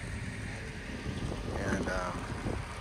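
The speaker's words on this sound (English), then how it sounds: "There's a wind blowing," Gusty wind at the snowy Big Pine rest area roars steadily against the microphone, a close, low buffeting rumble that fills the short stretch.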